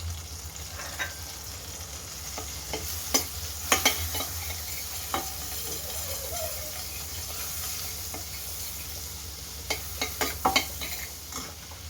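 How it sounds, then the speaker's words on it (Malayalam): Butter sizzling in a hot casserole pan on a high gas flame, with whole spices about to go in, frying steadily with scattered crackles and pops, close and fairly quiet, no talking. "ബട്ടർ നന്നായിട്ട് ചൂടായിട്ടുണ്ട്"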